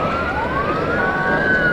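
Loud sirens rise in pitch together during a street parade, overlapping wails from emergency vehicles close by, over a low rumble of traffic.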